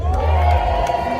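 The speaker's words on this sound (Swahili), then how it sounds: "Makofi kwao Songwe." A crowd at a school sports awards ceremony cheers and shouts for a second-place team, a loud dense roar of many voices with children's calls, held steady across the moment.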